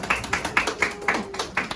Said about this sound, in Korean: 나오실 때 우리 박수 한번 쳐줄게요.